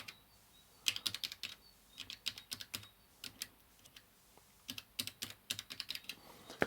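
Keys clack on a restored Amiga 500 computer keyboard in quick, uneven bursts of close, crisp taps, with short pauses between runs and no talking.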